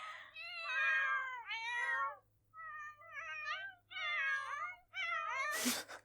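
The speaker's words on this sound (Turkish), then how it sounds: "Şimdi evde üç tane kedi var ya bakar mısınız bak. Nasıl miyavlıyorlar." Several cats in The Sims 4 meow repeatedly in a series of drawn-out, wavering cries, clear and close, with brief pauses between calls and a short burst of noise at the end.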